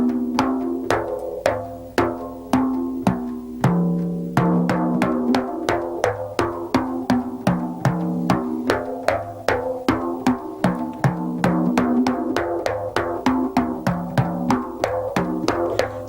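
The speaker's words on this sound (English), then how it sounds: "there are other harmonics that can be obtained by damping the head very slightly with one hand" Hand drum played with the head lightly damped by one hand and an index finger tapping near the rim, drawing out ringing harmonic tones in a steady, quick stream of close, clear strokes with no talking.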